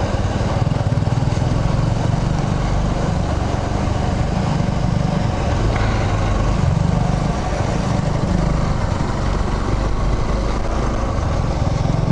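Bajaj motorcycle engine held at high revs on a test track, a loud, continuous buzzing drone with slight rises and dips in pitch throughout.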